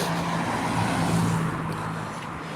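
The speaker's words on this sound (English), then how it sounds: "We've got a car coming." A car passing by on a road, a broad steady engine and tyre rumble that swells and then slowly fades.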